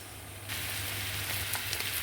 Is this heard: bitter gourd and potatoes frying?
yes